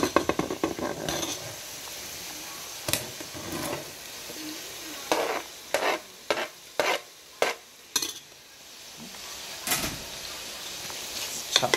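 Broccoli stir-fries in a hot pan, a steady sizzle broken by a series of sharp scraping and knocking strokes as the pieces are tossed and stirred.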